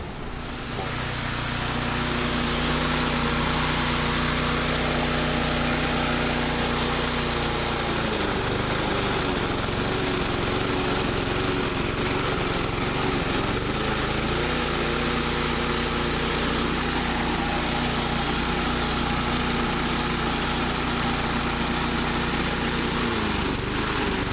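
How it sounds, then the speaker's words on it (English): A Honda lawn mower engine with a freshly rebuilt carburetor runs steadily and loudly for the whole stretch, a continuous close motor drone with a slight shift in pitch partway through. "We're going to take this guy outside and crank it up."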